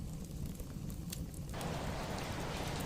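Steady, purposeful rain falls outside a Victorian tearoom in Scotland as a continuous broadband patter, thickening and growing louder about halfway through, with no voices.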